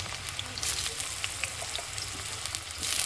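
Potatoes fry in hot oil in a pan for a Bengali spring onion vegetable dish, giving a steady close sizzle with scattered crackling pops throughout.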